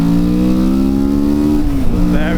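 A 2024 Kawasaki Vulcan S 650 motorcycle accelerates hard in a low gear, its engine note rising steadily and loud, then briefly dipping and climbing again as it nears a gear change.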